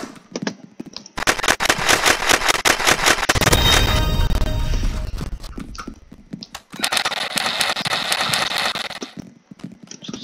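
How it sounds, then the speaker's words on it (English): Rapid automatic gunfire in a Roblox shooter game, loud dense bursts of repeated shots running through most of the stretch, with short pauses between volleys. "I have a machine gun."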